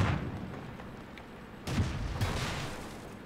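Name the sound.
tank gunfire from a Leopard sniping, World of Tanks video game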